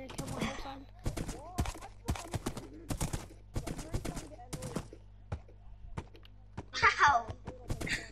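Hoofbeats in a video game as the player rides a horse, a string of sharp, evenly spaced clops repeating through the stretch at moderate volume, with a brief brighter sound near the end.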